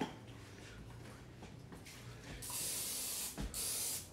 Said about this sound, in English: Just spray that.